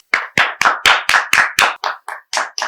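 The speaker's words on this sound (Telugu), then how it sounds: "కమాన్ క్లాప్స్ యార్." An audience claps when asked, about eleven close, sharp claps in a quick, steady rhythm that thins out slightly toward the end.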